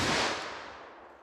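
A single .357 Magnum revolver shot is fired into a ballistic gel block outdoors, a sharp loud blast that starts at once and fades over about a second.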